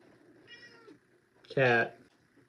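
A domestic cat gives a faint short mew, then after a pause lets out one loud, drawn-out meow close by, with quiet room noise in between.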